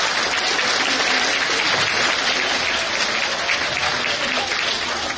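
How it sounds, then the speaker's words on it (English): Audience at a school Founder's Day function breaking into sustained applause, a dense, even wash of many hands clapping that holds steady for several seconds. "And I think everybody deserves a huge round of applause."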